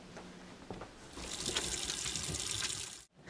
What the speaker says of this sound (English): you're going to want to wash your hands because, you know, you don't want to spread germs